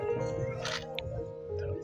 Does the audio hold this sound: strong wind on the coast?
no